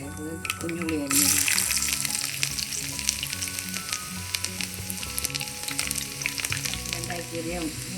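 Shallots, dried red chilies and curry leaves fry in hot coconut oil with a strong, steady sizzle and crackle up close, over background music.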